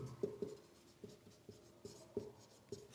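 Chalk or marker strokes on a board make a sequence of faint, short taps and scrapes, about eight quick marks in an uneven rhythm in a quiet room, with no voice.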